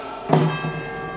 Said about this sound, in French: Sur ce son de cloche